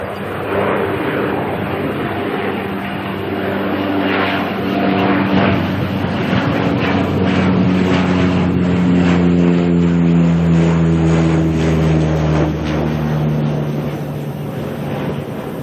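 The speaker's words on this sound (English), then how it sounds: "we've got a Dashi taking off here, heading to Blenheim" A Dash 8 turboprop takes off at Auckland bound for Blenheim, loud and close, its engine drone rising with gliding propeller tones that sweep upward and shift as it climbs away.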